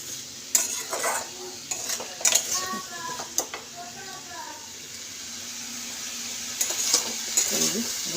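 A spoon scrapes and clatters around a pan while vegetable curry with cauliflower is mixed, giving a series of irregular metallic stirs and knocks over a soft sizzle, with someone talking between strokes.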